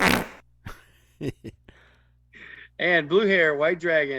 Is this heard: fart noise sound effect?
yes